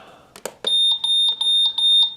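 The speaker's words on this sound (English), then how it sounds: "in order to stop the alarm on this clock, looks like you actually have to clear it" Alarm on a 2011 New York Mets LED clock, a few clicks followed by a run of high electronic beeps in repeating pulsed bursts, close and clear, with no voices.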